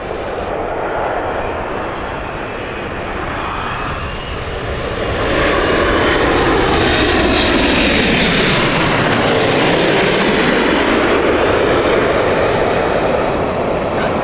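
A Saudi airliner at Gatwick Airport, jet engines building into a loud, sustained roar with a sweeping pitch shift as it passes close by, no voices.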